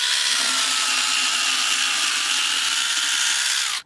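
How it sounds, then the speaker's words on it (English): A KINGSON 10.8V electric chainsaw cuts through wood with a loud, steady high-pitched buzz for a few seconds, close up, ending abruptly. "So you also use the chainsaw."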